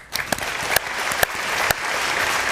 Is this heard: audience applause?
yes